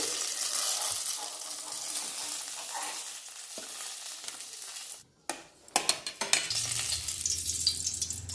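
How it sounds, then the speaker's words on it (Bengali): Constant hiss of eggplant pieces frying in hot oil, dropping briefly to near silence before clinks and scraping as pieces are moved around the pan. "বেগুনগুলো খুব ভালো করে ভেজে নিতে হবে।"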